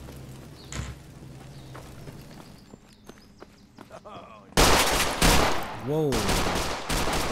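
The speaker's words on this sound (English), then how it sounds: "They're not shooting at me. Who are they shooting at, I wonder?" Gunfire in the Fallout 4 video game, with sharp shots scattered under quiet ambience and then a sudden loud burst of sustained shooting; one voice exclaims briefly.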